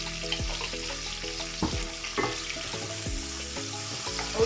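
Chickpea mixture with onions, chili and curry leaves stirred in a hot pan, a steady sizzle broken by repeated scraping strokes of the spoon, close and fairly loud, no talking.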